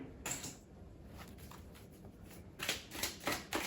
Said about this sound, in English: So let's pull a few more oracle cards